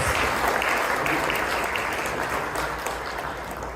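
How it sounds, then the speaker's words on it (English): A hall crowd at a Congress victory celebration in Chicago applauds steadily and loudly for Iftikhar Bhai, a dense continuous clapping that fades slightly toward the end. "Give him a big hand of applause"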